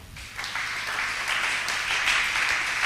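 Church congregation applauding the Lord, a steady wash of clapping that swells in at once and holds loud and even throughout.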